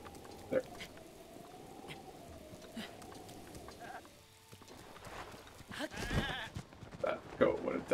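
A goat in the video game The Legend of Zelda: Breath of the Wild lets out a few bleats near the end, mixed with game ambience and someone talking over most of it.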